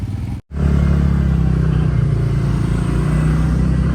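A scooter, an Activa, pulling away with a loud, close engine drone that cuts out briefly before rising into a steady hum, on a road trip from Delhi to Nainital.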